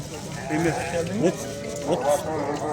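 Sheep with lambs bleating at the Sokuluk livestock market. Several wavering bleats rise over a constant background of crowd chatter and people talking.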